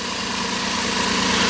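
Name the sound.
1994 Toyota T100 3-liter V6 engine idling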